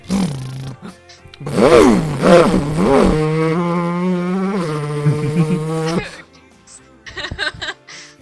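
Voices rev and drone in imitation of a motorcycle engine, rising then holding a steady growl, mixed with chuckling, then fading into quieter sounds.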